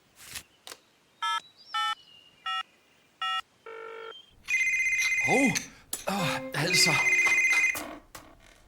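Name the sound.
mobile phone dialing and ringing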